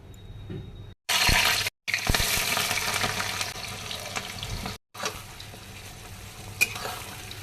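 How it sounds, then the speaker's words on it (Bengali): Onions sizzle loudly in hot oil as they fry to brown, the crackle broken by a couple of short gaps and occasional stirring scrapes. "পেঁয়াজটা একদম বাদামি বাদামি ভাজা হয়ে গিয়েছে"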